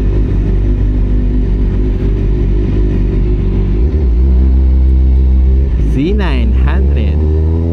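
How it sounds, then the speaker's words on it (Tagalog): A Kawasaki Z900 motorcycle rumbles loudly at close range, its engine note swelling and dipping with a couple of rising revs near the end, mixed with the drone of nearby traffic. "Z900. Swabe rin yung tunog eh."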